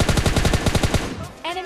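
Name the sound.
gunfire in video game PUBG Mobile Lite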